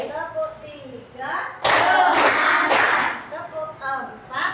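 Classroom of children clapping together in a counted routine: three loud, dense bursts of group claps in quick succession, set between stretches of a teacher's voice speaking before and after.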